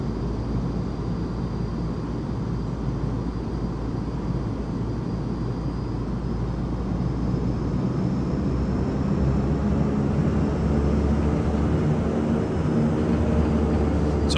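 Black Square King Air turboprop taxiing in Microsoft Flight Simulator, a steady, droning engine hum with a faint high whine that holds evenly throughout, with no voices.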